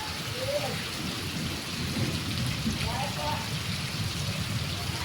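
Heavy rain drums steadily on Ahmedabad streets, a loud continuous wash with low rumbling underneath and faint voices drifting through the downpour.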